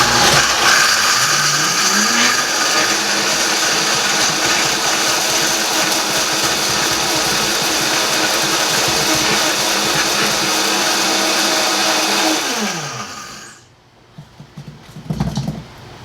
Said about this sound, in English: This is kind of a loud blender,